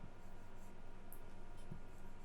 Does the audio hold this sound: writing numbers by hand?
yes